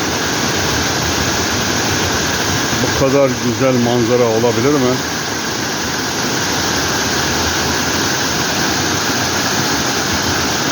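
Tortum waterfall in Erzurum pours from a great height as a loud, constant roar, with someone speaking briefly over it.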